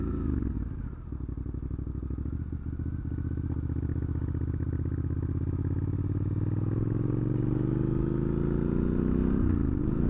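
Triumph Scrambler 900 motorcycle on a ride, its engine rumbling loud and close with a steady throb that slowly rises in pitch as it accelerates, wind noise running underneath.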